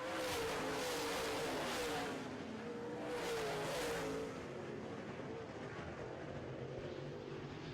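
Late model race cars roar around a short oval track, a loud continuous engine drone that swells and fades as cars pass, with no voices over it.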